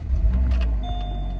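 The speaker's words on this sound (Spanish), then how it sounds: "lo primero que hago, amigas, es prender el carro para ver si va a prender." A car engine turns over and settles into a low, steady idle at close range, with a faint high whine running through it and no talking.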